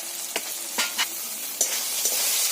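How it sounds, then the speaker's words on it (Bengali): Slit green chillies fry in hot oil in a pan, giving a steady close sizzle punctuated by a few sharp spatula clicks and pops. "এবার এর মধ্যে দিয়ে দিলাম কাঁচা লঙ্কা চেরা চার পাঁচটা মতো"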